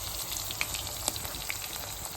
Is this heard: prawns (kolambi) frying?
yes